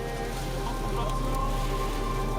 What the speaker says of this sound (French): La violence des puissantes rafales tornadiques projette une pluie brune chargée de boue.